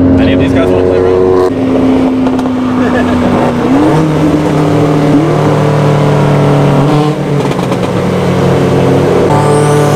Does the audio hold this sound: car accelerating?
yes